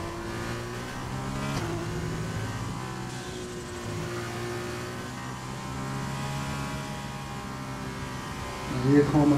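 Formula 1 car at full throttle in F1 2020, a steady high-pitched engine whine held flat out with small shifts in pitch, continuous throughout with a voice speaking over it briefly near the end.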